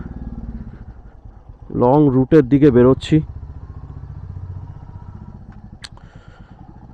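Royal Enfield Bullet 350 motorcycles idle in the background with a low, steady engine thump, mostly masked by someone speaking briefly in the middle.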